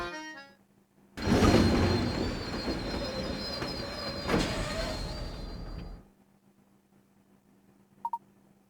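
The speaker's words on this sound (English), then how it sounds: "Why has the train stopped?" A video game train in Professor Layton and the Diabolical Box grinds to a halt with a loud, sustained rumble and squealing brakes for several seconds, then cuts to near silence broken by a brief electronic blip.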